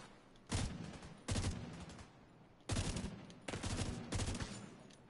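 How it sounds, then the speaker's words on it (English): Rifle fire in The Division 2 beta, four loud bursts of gunfire at an uneven pace with brief quieter gaps between them. No one speaks. "I'm actually okay with the 3-round burst."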